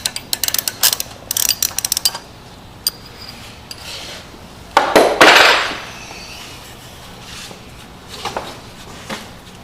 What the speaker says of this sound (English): then you'll need a wrench